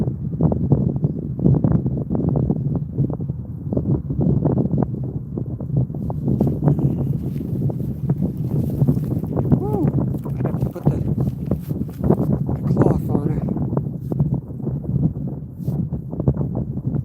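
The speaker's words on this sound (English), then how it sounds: "Here comes the wind." Wind gusts buffet the microphone outdoors at a carp and catfish fishing spot, a steady low rumbling roar with uneven surges that lasts the whole time.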